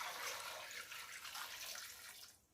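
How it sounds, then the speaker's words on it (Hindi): A jug of water pours steadily into a cooking pot of carrots with a rushing, splashing sound for a couple of seconds, then stops. "साथ ही 1 जग पानी इसमें डाल देंगे।"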